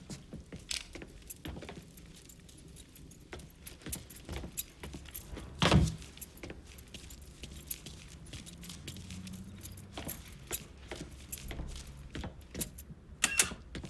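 Truck keys jangling as they are grabbed in the Mafia 3 video game, a series of faint, scattered metallic clinks and rattles with one louder clatter near the middle, set against quiet background ambience.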